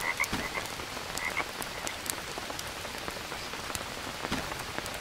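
A toad croaks in the jungle survival video game Green Hell, several short croaks repeating against steady rainfall pattering on surfaces.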